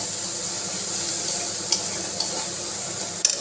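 Cumin seeds fry in hot oil in a pan with a steady, soft sizzling hiss, broken by a few faint crackles and a small clatter near the end.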